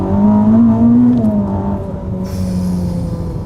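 A 1000 HP Ferrari pulling hard on a short straight, its engine a loud, close drone rising steadily in pitch, then easing off into a lower whirring roar as a higher whine takes over.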